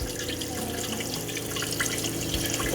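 An RV toilet sprayer in a Winnebago Travato 59K motorhome pushes out pink antifreeze, a steady close hiss of spray and running liquid over an unbroken wash of water noise.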